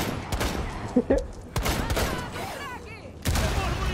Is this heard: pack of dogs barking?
no